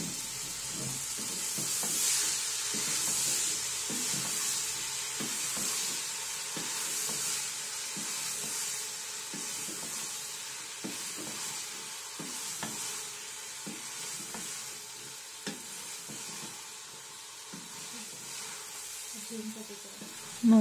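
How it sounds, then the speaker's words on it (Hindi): Mongre frying in mustard oil, a continuous hissing sizzle with repeated rhythmic stirring scrapes and taps running throughout, close and steady, without speech. "मोंगरों को हम अच्छी तरह भून लेंगे।"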